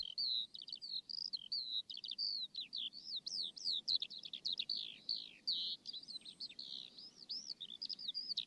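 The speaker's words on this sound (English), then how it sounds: "Here's the Skylark." A skylark sings in a continuous, rapid stream of high warbling, trilling phrases, clear and fairly close against a faint low background hum.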